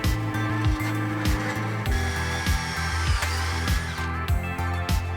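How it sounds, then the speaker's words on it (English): Power drill driving a countersink bit into plywood in a woodworking shop, a loud whining motor with repeated pulsing bursts and pitch drops as the bit bites, close and alone. "Then I laid out the lines and had some more fun with my countersink bit."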